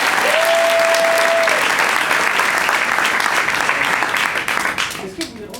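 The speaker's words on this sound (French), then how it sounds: "On peut l'applaudir pour ça" Steady, loud audience applause rings out for a card-trick performer at a live show, sustained for several seconds before thinning out and tapering off near the end.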